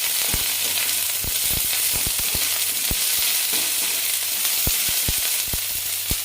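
Cubed capsicum and onion fry in a hot pan for chilli mushroom, a loud continuous sizzle broken by frequent sharp clicks and scrapes of stirring, with no voices.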